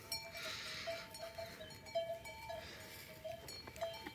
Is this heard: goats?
yes